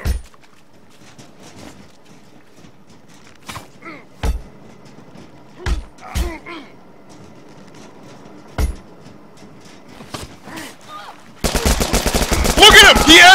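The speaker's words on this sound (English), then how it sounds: "How do they all have machine guns?" Machine gun fire in a video game: several short, sharp bursts spaced a few seconds apart over a quiet background, ending in a loud sustained stretch of dense gunfire.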